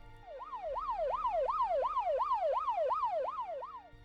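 A loud police car siren wails, sweeping up and down in a steady, rapid rhythm, close by and continuous as the car drives past with Doppler shift, with no one talking.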